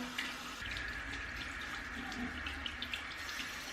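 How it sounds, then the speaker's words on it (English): Tap water runs in a steady, moderately loud stream over a makeup brush being rinsed at a sink, with faint splashing throughout. "when you see the water running off of it, the water runs clear"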